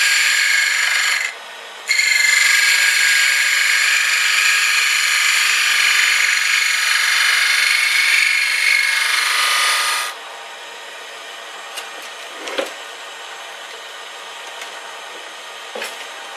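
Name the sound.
woodturning tool cutting a hollow wooden egg on a lathe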